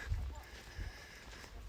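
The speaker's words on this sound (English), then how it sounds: "There's one of my new leads, 6-year-old Shire Cross Powell." A six-year-old Shire cross horse's hooves clip-clop in a few low, dull thuds over ground outdoors in the bush, near and moderately loud under background noise.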